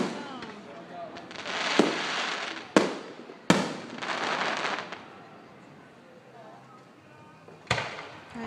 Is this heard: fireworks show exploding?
yes